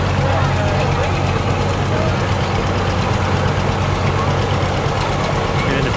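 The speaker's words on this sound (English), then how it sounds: "we have an old John Deere tractor rolling on through here" Old John Deere tractor rolling past in a small-town church festival parade in Freeport, Minnesota, its engine a steady loud low rumble throughout with crowd chatter mixed in.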